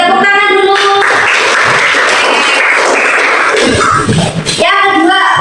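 A class of students in an Indonesian Islamic religious education lesson bursts into loud, dense hand clapping for a few seconds, with a teacher's voice speaking just before and after.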